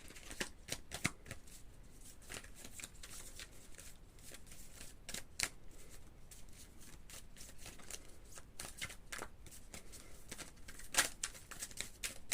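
Tarot deck being shuffled by hand, a steady run of soft riffling card flicks and slaps at close range, faint and alone with no talking.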